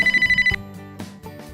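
A mobile phone ringtone plays as a quick run of repeated electronic pulses, loud and close, then cuts off abruptly, leaving only faint movement and room sounds.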